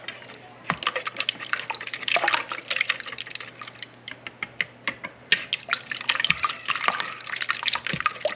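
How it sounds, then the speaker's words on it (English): Eggs with a pinch of salt are whisked in a bowl for blackberry curd, giving quick uneven wet taps and clicks, soft and close, in a loose rhythm throughout. "and we're just gonna whisk it"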